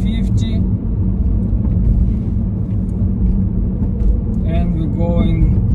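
A car accelerates to 50 on a road during a driving test, a steady low engine and road rumble heard from inside the cabin while people talk over it.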